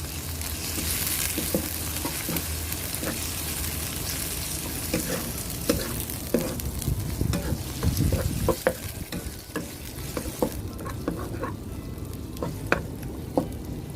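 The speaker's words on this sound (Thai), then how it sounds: "ผัดให้กุ้งสุกดีเลยนะคะ" Shrimp sizzles steadily in a hot pan while a utensil scrapes and stirs in frequent irregular strokes, close and continuous, with no voices.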